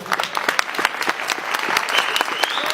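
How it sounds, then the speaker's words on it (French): A crowd at a Gilets Jaunes rally in support of working-class neighbourhoods breaks into applause, lively clapping with scattered cheers, near and continuous. "On peut les applaudir."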